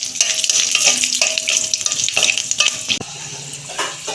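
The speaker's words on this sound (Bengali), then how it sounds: "ওই কড়াতে আমি তেল দিচ্ছি, একটা শুকনো লঙ্কা ফোড়নে দিচ্ছি" A dry red chilli crackles and sizzles in hot oil in a wok, a loud close spattering hiss broken by stirring scrapes and a sharp clink partway through.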